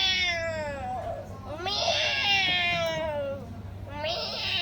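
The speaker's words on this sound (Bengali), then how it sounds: "তুমি যে মেও মেও করতেছ।" A large cat meows loudly and repeatedly up close, drawn-out wavering cries in several long bursts, with a person's voice speaking around them.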